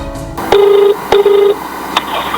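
A phone call being placed: a short dialing tone, then two evenly spaced ringback tones, each about half a second long, clear and close, followed by a brief click.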